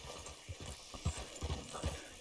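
Horse hooves clopping irregularly in a Red Dead western video game, a series of soft uneven thuds at close range over a steady low background hum, with no clear whinny.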